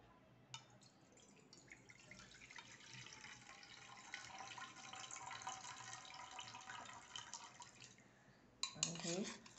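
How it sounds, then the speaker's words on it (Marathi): Water drains off soaked rice in a thin, steady trickle, quiet and close, ending with a short clatter of a vessel. "पाणी निथळून काढायचे"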